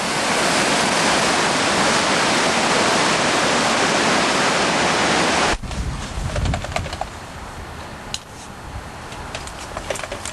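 Swift, fast-running water in Salem Creek during a high flow, a loud, dense, steady rush close by that drops sharply partway through to a quieter churning flow with scattered splashes.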